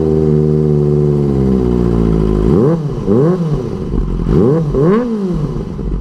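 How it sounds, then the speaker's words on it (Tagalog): Inline-four engine of a 2023 Kawasaki Ninja ZX-25R, steady high idle-to-rev hum dropping, then several sharp throttle blips rising and falling in quick succession, loud and close, with no talk. "So ganyan ang tunog ng inline 4 engine"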